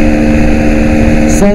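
A 125cc motorcycle runs flat out at top speed, a loud, steady engine drone with strong wind rush, a brief tonal shift near the end.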